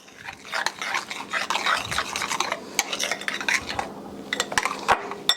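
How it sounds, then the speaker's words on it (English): A utensil stirs minced onion and sweet pickle relish in a bowl, giving a rapid run of close clinks, scrapes and taps with a moist, squelchy texture between the sharper hits. "Stir those up."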